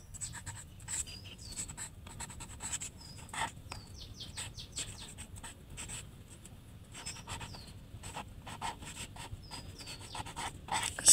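Handwriting out a math solution on paper: a pen scratches in short, soft strokes at close range, while birds chirp and a dog pants faintly in the background.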